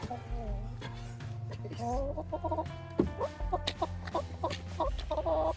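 Chickens cluck repeatedly near a horse barn, their choppy calls rising and falling close by over a steady low background hum, with no voices.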